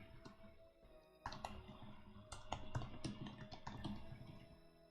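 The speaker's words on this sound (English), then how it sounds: "Guess I'm typing it now." Quiet typing on a computer keyboard during a live UX/UI design session, with irregular bursts of soft key clicks that pick up in density midway and continue without talk.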